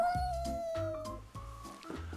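A cat meows in a drawn-out, wavering, plaintive cry followed by shorter calls, close and clear with no talk.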